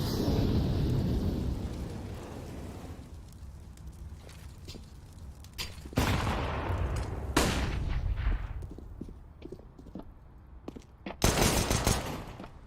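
Sharp pistol shots and a few bursts of gunfire in a Counter-Strike match on Overpass, loud cracks spaced out over a busy background of game ambience.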